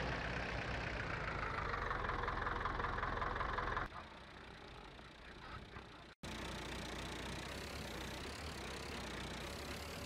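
A Ferguson tractor idles on a farmyard during grain loading, its diesel engine giving a steady low knocking rumble that drops in level partway through, then settles into a quieter, even idle.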